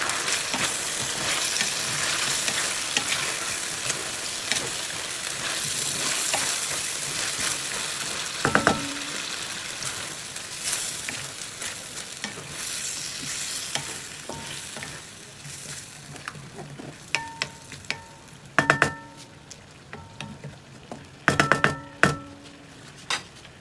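Liempo in black beans sizzles loudly in a hot pan as calamansi juice goes in, the frying hiss fading gradually while a metal spatula scrapes and clinks against the pan in sharp, irregular strikes toward the end.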